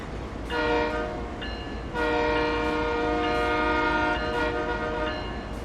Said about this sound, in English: That sound where it had the jun jun jun, like the rail noise, I recognise that from Train Sim Classic